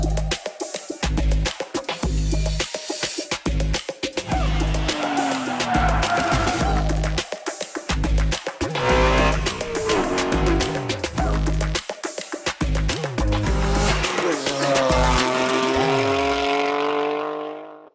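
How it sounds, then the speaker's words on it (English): A BMW G80 M3 Competition fitted with an FI exhaust drives hard, loud and close, with rising and falling revs, sharp gear changes, tire squeal and crackling exhaust over about eighteen seconds before cutting off. "we're putting on an FI exhaust to bring out the true sporty nature of this M3"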